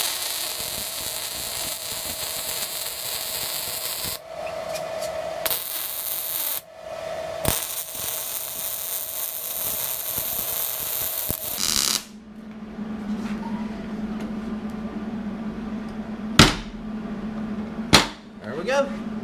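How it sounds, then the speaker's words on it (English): Welding on a DIY folding box anchor: steady crackling hiss of an arc in long bursts broken by short pauses, then quieter clanks and sharp taps near the end. "we'll go ahead and get this welded up solid."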